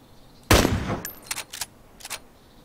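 A single sniper rifle shot in a video game, a sharp loud crack with a short ringing tail, followed by a few quieter clicks and clatters of the scope and bolt.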